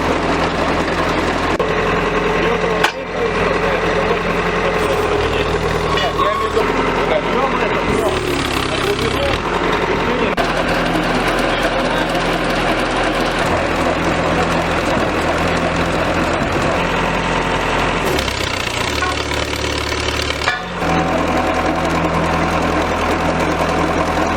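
Drilling equipment's pump runs steadily with a low, knocking engine drone that holds throughout, dipping briefly twice, while a voice talks over it.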